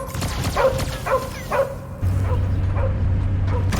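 Cosmo, a dog in the video game Guardians of the Galaxy, gives several short, sharp barks in a row, then a low whimpering whine over a steady game soundtrack hum.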